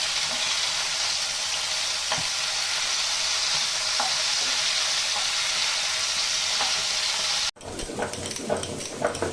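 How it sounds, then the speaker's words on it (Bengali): A few fish sizzle in a pan of hot oil with a steady, close hiss and faint ticks, then after a brief cut the sizzle turns choppier and more crackly as the pieces are turned. "তো মাছ কটা আমার একসাথে ভাজা হয়ে গেছে, আমি ওসব উল্টে দিব।"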